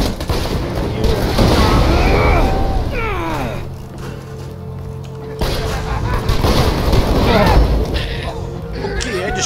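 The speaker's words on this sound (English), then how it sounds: "I just shot him in the face and he died" Gunfire and booming blasts ring out in the Borderlands 2 shooter game, loud and close, in bursts mixed with a roaring, crashing game din, while players talk over the action.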